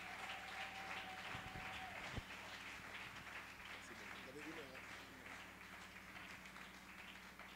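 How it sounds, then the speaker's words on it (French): A church congregation applauding, a faint, steady wash of clapping that continues throughout with voices mixed in. "Alors qu'il s'avance, on acclame le Seigneur."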